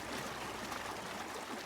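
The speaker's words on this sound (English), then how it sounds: "I think that was just the water." Water flowing steadily in the video game Syberia, a continuous broadband rushing and trickling wash that stays even and fairly loud throughout with no talk over it.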